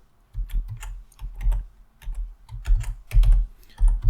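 A computer keyboard being typed on to enter a password, with a close, uneven run of soft key clicks and taps over a few seconds.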